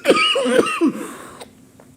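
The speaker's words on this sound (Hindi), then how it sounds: "बहुत बुरी खांसी आ रही है यार," A few hoarse, throaty coughs in quick succession right near the microphone, trailing off into quiet.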